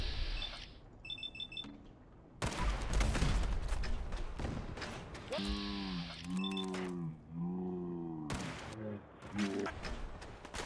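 Gunfire in the Fallout 4 video game comes as bursts of sharp shots mixed with in-game beeps and tonal sound effects, loud and close, broken by short pauses.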